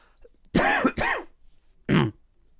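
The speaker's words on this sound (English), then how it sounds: "Oh god, that cough came out of nowhere." A person alone coughs three times, two quick harsh bursts close together followed by a third after a short pause, loud and close with quiet in between.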